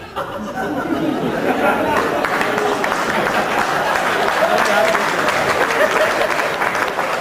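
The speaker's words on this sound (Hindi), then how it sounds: "आइए जोरदार तालियां बजाकर स्वागत करें" An audience at a Hindi comic poetry gathering (hasya kavi sammelan) in Asansol claps loudly and continuously to welcome a poet, with crowd chatter and light laughter mixed into the sustained applause.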